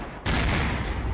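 A tank cannon fires in the video game Unturned: one sudden, loud blast that hangs on as a dense, sustained rumble for the rest of the moment, with no talking.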